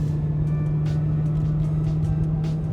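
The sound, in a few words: BMW M3 engine with performance exhaust mod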